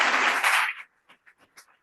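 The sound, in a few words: audience applause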